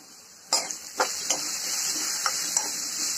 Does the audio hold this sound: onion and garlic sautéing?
yes